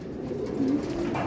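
Pigeons coo softly and continuously inside a breeding loft of racing pigeons, a low rolling murmur close by with no voices.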